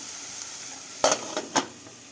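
Onions and green chillies frying in a pan for capsicum curry, a soft steady sizzle with a few sharp spatula clanks against the pan near the end.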